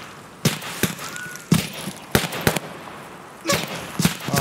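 Gunshots fired through bushes in Escape From Tarkov ring out as loud, sharp single cracks at irregular intervals, about eight in total, with some in quick pairs over a low background hiss.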